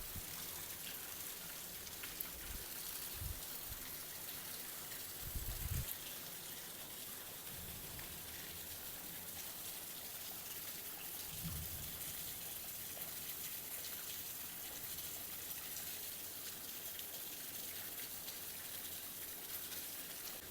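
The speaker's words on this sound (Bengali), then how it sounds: "দেখতে পাচ্ছ কি ধরনের বৃষ্টি পড়েই যাচ্ছে সকাল থেকে নিয়ে রাত পর্যন্ত।" Heavy rain falls at night as a steady, fairly faint wash of hiss and patter with a few low thuds along the way, continuing unbroken throughout.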